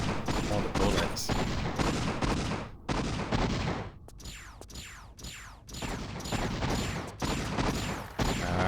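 Rapid bursts of gunfire from two enemies in a Tomb Raider level-editor game, shots cracking again and again in dense volleys, loud and close, with brief gaps between clusters.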